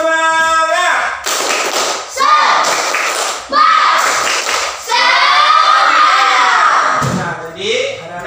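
Schoolchildren in a classroom chant together and clap a rhythmic group cheer, loud and close, with bursts of shouted voices and sharp claps in a patterned sequence.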